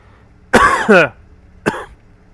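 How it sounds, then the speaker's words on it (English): A person getting over a cold coughs twice up close: a loud, rough burst, then after a short pause a second, shorter cough, with nothing else around them. "Sorry, I coughed there."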